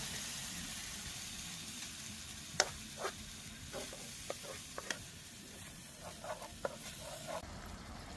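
A spoon scrapes and stirs curry with coconut milk in a pan at an outdoor camp cook, with a soft steady sizzle and scattered clicks and knocks of the utensil against the pan.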